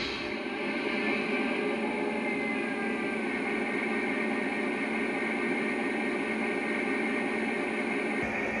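Lionel Elgin, Joliet & Eastern SD38 model train engine starting up with a steady, dense diesel rumble and hiss that holds for the whole stretch, then cuts off sharply right at the end.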